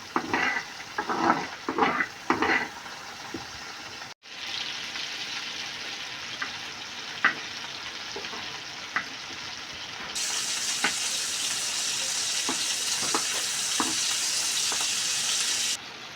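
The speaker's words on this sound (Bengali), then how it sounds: "এখন চিংড়ি মাছ ভেজে নিতে হবে।" Prawns seasoned with salt and turmeric fry in hot oil with a steady, close sizzle, opened by a few sharp crackling bursts and later growing louder and hissier, with occasional stirring clicks.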